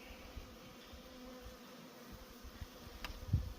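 A crowd of honeybees around an open hive box, low steady droning hum throughout with a short close buzz near the end and no speech.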